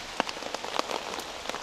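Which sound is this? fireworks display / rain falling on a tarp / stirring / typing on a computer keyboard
rain falling on a tarp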